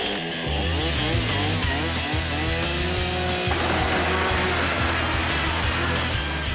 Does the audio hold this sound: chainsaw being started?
yes